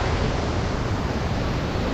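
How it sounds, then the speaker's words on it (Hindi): Rajpuri waterfall swollen with monsoon rain, a dense, steady roar of flowing water that fills the whole clip at constant loudness, close and uninterrupted, with no voices. "और पानी जो इधर बह रहा है"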